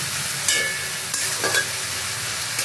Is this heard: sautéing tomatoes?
yes